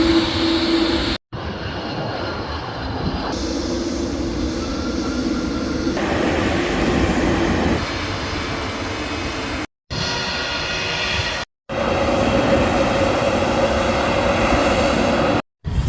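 Aircraft engines at Edinburgh Airport roar loudly and steadily across several cut-together stretches, a sustained jet rumble and whine with brief silent gaps between segments.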